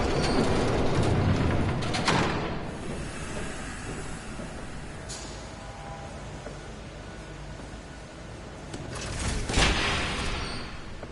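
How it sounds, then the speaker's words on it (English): A train rumbles past in Batman: The Telltale Series, a broad steady roar that is loud at first, eases off, then swells again near the end with faint clattering. "There's a train coming."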